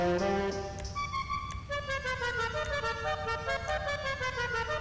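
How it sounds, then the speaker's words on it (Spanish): A kart's musical horn in the video game GTA V plays a short melodic sequence of tones, loud and clear, with a low engine hum underneath and no talking. "Claxon, los que más me gustan, bueno, son este."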